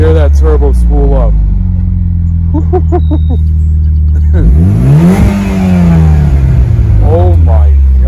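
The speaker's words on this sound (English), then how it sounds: "You can hear that turbo spool up." A 2015 Mitsubishi Lancer Evolution Final Edition engine revs hard, its pitch sweeping up and down as the turbo spools, very loud and close, with excited voices talking over the engine.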